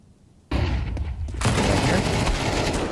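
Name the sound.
gunfire and flashbang in a video game match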